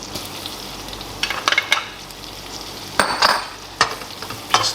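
Leeks sizzle in a hot pan for risotto, a constant frying hiss broken by bursts of louder crackle and scraping each time they are stirred around, close and with no voices.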